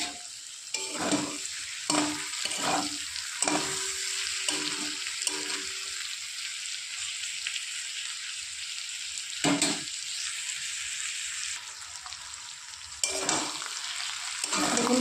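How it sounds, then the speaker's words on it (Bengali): Small fish fry in plenty of oil with eggplant and chopped tomato, a steady sizzle broken by several loud scraping stirs of a spatula in the pan, close by with no talking. "বেশি করে তেল দিয়ে একটু ভাজা ভাজা করবো মাছটা"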